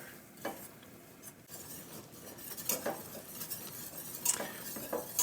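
Flour roux for mac and cheese cooking in a pan while being stirred, with soft sizzling under repeated metal utensil scrapes and clinks against the pan that grow busier toward the end.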